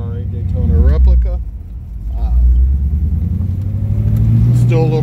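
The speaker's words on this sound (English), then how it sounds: "I'm going to take you on a quick test drive of my Ferrari Daytona replica." A Ferrari Daytona replica car engine on a cold-morning test drive, with a steady low rumble that swells and eases as the car pulls along, while someone talks over it.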